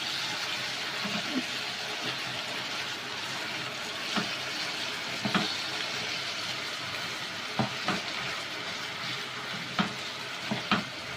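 Potatoes for a Spanish omelette frying in a pan, a continuous even sizzle broken by occasional soft clicks of stirring, steady and close with no talking.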